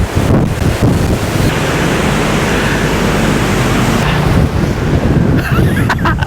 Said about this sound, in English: So, it's too much wind. Very heavy. Very heavy wind.